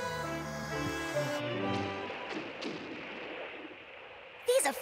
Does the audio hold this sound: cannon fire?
yes